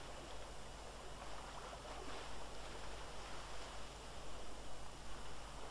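A water bottle is filled from a stream in the MTA San Andreas DayZ mod, heard as a soft, continuous rushing wash that swells slightly toward the end, quiet and alone.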